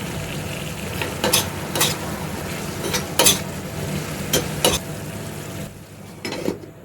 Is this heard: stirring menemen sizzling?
yes